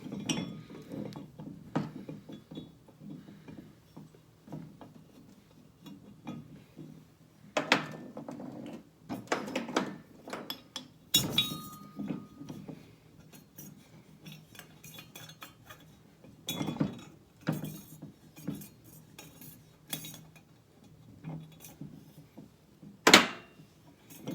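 A metal pin and bushing are slid and pried into place on a half-ton Dodge pintle hook during a rebuild: sparse, sharp metallic clinks and knocks come in irregular bursts over quiet gaps, with one loud clank near the end.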